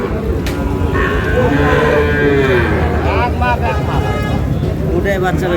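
Sahiwal cattle and calves at a busy cattle market in Dinajpur moo loudly and close by, long drawn-out calls overlapping over a constant murmur of crowd noise.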